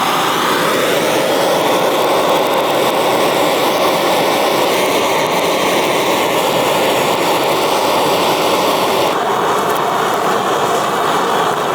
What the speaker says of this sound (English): this is why I always bring a torch